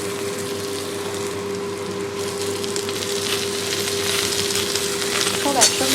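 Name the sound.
frying onion, potato, eggplant and pumpkin in a pan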